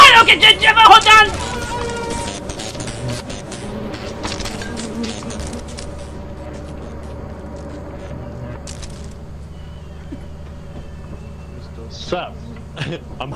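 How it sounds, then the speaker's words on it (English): Bees buzz in the video game Lethal Company, a steady droning hum running under excited player voices and chatter, loudest and most busy at the start, then settling into a lower continuous drone. "I don't want those bees to get me."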